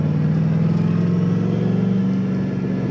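A big-turbo LS6 V8 in a Volvo sleeper car runs on all eight cylinders, a loud, deep, steady engine drone with a throbbing low rumble that holds close and sustained.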